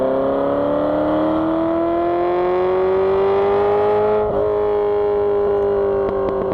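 A rebuilt Ferrari engine revs up steadily as the throttle opens, a loud, close, continuous roar that rises in pitch, with a brief dip and catch near the end.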